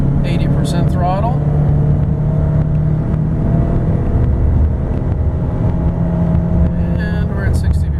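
Under steady talk, a 2008 Mercury Mariner Hybrid 4x4 SUV accelerates at 80% throttle, its engine droning loudly and evenly with road and cabin rumble throughout.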